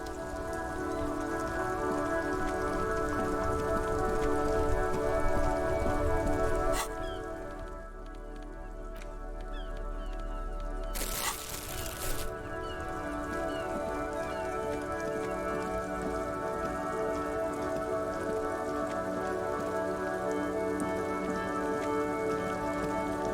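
Steady rain falls in Disco Elysium during a traffic-jam scene, a dense, constant patter with a low droning tone beneath it and a brief dip midway, with no voices.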